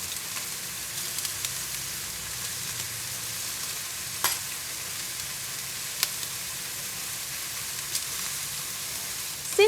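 Butterfly shrimp with crispy garlic sizzle steadily in a hot frying pan, a constant crackling hiss broken by a few sharp pops and utensil clicks, with no talking.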